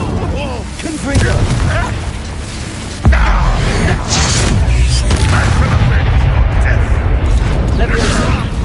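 Confringo explosive spell blasts in Hogwarts Legacy, sharp booming bursts with a hard strike near three seconds amid dense combat noise, while voices talk over the fight.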